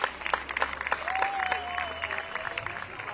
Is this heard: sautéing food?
no